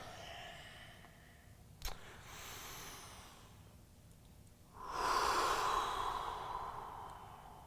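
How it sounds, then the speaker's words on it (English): Slow, deep breaths taken while holding a low lunge stretch in a yoga workout, a soft inhale followed by a longer, louder airy exhale, close and quiet with no talking. "Couple more breaths here. Exhaling to sink deeper."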